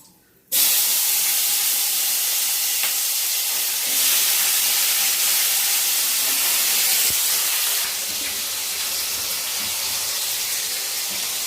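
Tomato dropped into a pan of frying vegetables in a home kitchen sets off a sudden loud sizzle after half a second, then a sustained bright hiss that eases slightly near the end, with no voices.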